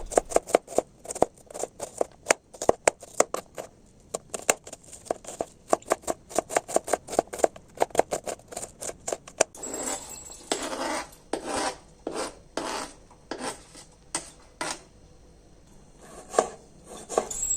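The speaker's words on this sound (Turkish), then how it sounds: "Bir tane soğanımızı doğruyoruz." An onion is chopped with a knife on a board for a Turkish black-eyed pea dish, giving a long run of quick, sharp close chops that break off and then return as slower, heavier cuts.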